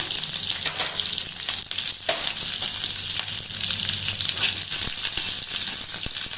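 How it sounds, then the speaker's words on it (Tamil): Mustard seeds crackle and splutter in hot oil, a dense, steady sizzle with scattered sharp pops throughout, close and fairly loud. "இப்போது கடுகு போடுறேங்க. அது வெடிக்கட்டும்."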